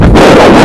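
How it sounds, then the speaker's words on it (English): Loud, rumbling wind buffeting the microphone in a short, heavy gust. "It's so damn windy."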